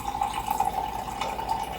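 Juice of orange, lemon and cranberry-pomegranate pours through a sieve into a container, a steady trickling, splashing stream that runs continuously for a couple of seconds, close by and moderately quiet.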